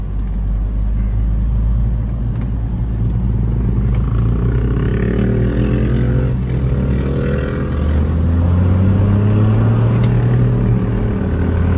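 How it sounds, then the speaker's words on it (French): A small diesel engine in a tuned Smart Fortwo Brabus runs with a steady, loud rumbling drone and exhaust note, rising slightly in pitch toward the end, heard continuously without talk. "Un bon petit diesel qui crache."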